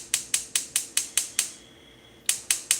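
A gas stove burner igniter clicks on in a home kitchen before shrimp are cooked: a close, rapid, evenly spaced series of sharp ticks, a short pause, then a few more clicks, with no talking.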